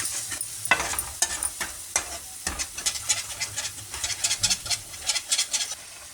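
Ginger garlic paste frying in a pan for mustard fish curry, a close, crackling sizzle punctuated by rhythmic spatula scrapes and taps, with no speech.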